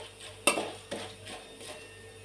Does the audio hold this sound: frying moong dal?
yes